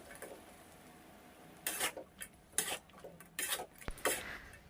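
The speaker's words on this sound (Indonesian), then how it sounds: "lalu yang kita goreng tadi dimasukin, kemudian dicampur hingga merata dengan cabenya" A spatula scrapes and clinks against a pan as fried ingredients are stirred into chili sambal for Samba Buruak, giving irregular soft metallic knocks and scrapes close by, with no talk.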